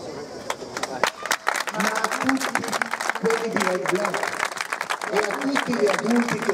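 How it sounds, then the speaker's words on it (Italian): Crowd applause at the inauguration of an ice skating rink in Cremona, loose claps building into a fuller patter, with chatter and voices running beneath it. "Allora fate un applauso a lui."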